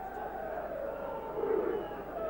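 A rugby league crowd at Castleford cheering during a match against St Helens: a broad, sustained roar of many voices at a distance that swells slightly midway, with a voice over it.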